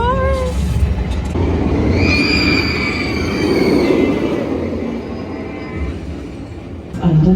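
A theme park train rumbles past at Alton Towers with a continuous close roar and high metallic squeals over it, and a brief burst at the end.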